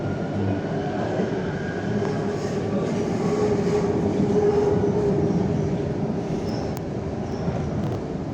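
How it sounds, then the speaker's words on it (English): Metro train running steadily through a station, a broad continuous rumble and rattle of cars and rails that swells slightly mid-pass and stays loud throughout, with no talk. "The last train."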